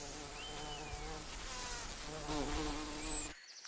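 A heavy-bodied bumblebee buzzing in flight, a close, steady droning hum that wavers in pitch as it moves around, fairly faint and heard alone before cutting off abruptly near the end.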